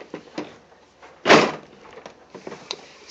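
A drawer holding baby bottles and breast pump parts slides with one loud, close scraping thud in the middle, surrounded by lighter knocks and rattles of items inside.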